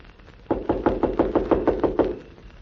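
Knocking on a door, a radio-drama sound effect: about ten quick, evenly spaced hollow raps, close and fairly loud, with no voices over them.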